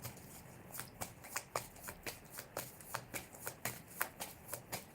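Quiet, steady riffling of a star oracle card deck being shuffled by hand, soft repeated flicks and snaps recurring roughly twice a second, close and faint, with no talking.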